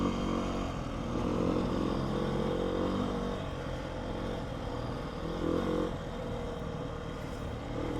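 A 2019 Beta 125 RR-S dirt bike engine droning loudly and steadily while riding, a constant buzzing two-stroke tone with slight swells as the throttle opens, close up with no voices.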